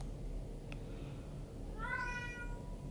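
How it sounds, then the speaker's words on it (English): A pet cat indoors lets out one short, clear meow near the end, moderately loud against a quiet background hum. "That's my cat."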